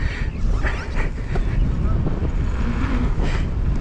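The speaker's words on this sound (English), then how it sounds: "Oh, that wind's getting strong." Strong wind buffeting the microphone at an outdoor pump track, a loud continuous rumbling roar with gusty surges, heard alongside a rider's voice.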